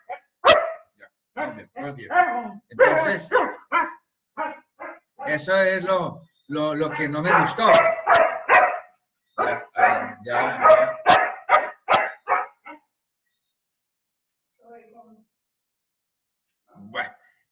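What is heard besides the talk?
dog barking and whining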